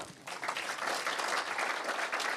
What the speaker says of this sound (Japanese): もう一度あの拍手をお願いします